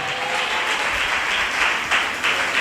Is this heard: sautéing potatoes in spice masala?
no